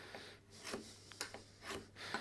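A burnisher is rubbed along the edge of a cabinet scraper in a few short, faint scraping strokes, quiet and close.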